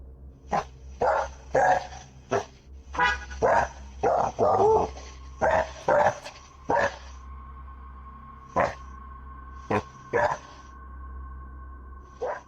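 Several dogs bark in short, loud bursts, clustered at first and then spaced out, while a faint steady electronic tone hums underneath.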